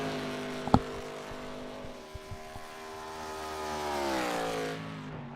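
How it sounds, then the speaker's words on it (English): A race car in a video-game race at Road Atlanta holds a steady engine drone whose harmonics climb in pitch as it builds speed near the end, with a sharp tick early on and a few short thumps in the middle. "Cars really pick up speed as he goes hard into the braking zone."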